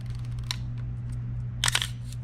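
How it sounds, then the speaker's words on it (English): A film camera shutter clicks faintly twice in a quiet room over a low steady hum, one sharp tick followed a second later by a brief cluster of clicks. "Yeah, that's the shutter."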